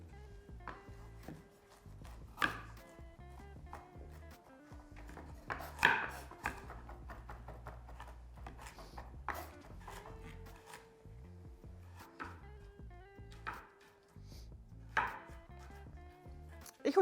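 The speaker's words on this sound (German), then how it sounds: "Den Knoblauch bitte auch hacken, in feine Würfel hacken, Zwiebeln in Würfel schneiden und auch die Möhren in Würfel schneiden." Knife chopping garlic, onions and carrots into fine cubes on a board, quick irregular bursts of tapping cuts with pauses, close and fairly quiet.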